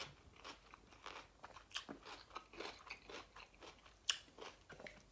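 Fresh cucumber being bitten and chewed close up, giving a run of crisp, wet crunches in an uneven rhythm with a couple of sharper snaps near the end.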